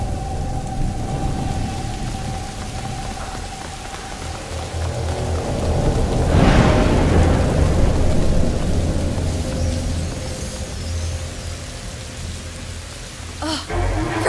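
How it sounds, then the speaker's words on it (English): A thunder and lightning storm in the video game A Plague Tale: Innocence brings steady heavy rain and a loud rolling thunderclap that swells midway and slowly fades, with a sharp crack near the end. "Did you see that? The lightning bolt."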